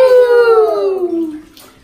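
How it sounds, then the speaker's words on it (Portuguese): Water running into a bathtub with pink dollar-store bubble soap, a loud whistling tone from the tap that slides steadily down in pitch and fades out over about two seconds. "Agora eu vou ligar mais a água aqui"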